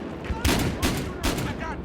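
Gunfire in the Battlefield Hardline video game sounds as three loud bursts of shots, each followed by a short gap, close and sharp over steady background noise.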